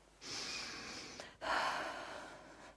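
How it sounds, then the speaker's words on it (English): Character in Kingdom Come: Deliverance 2 breathing deeply, with a long inhale, a brief pause, then a strong exhale, close and fairly quiet. "Your breathing is improving."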